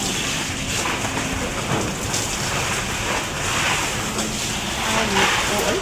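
Steady rain patters and hisses continuously on a surface, with a dense, even wash of drops throughout.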